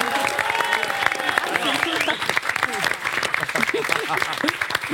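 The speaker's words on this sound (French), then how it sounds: "Applaudissez-le, Kader Diaby." Audience applause at a French-language stage show, steady dense clapping running through the whole stretch with a host's voice and crowd noise mixed in underneath.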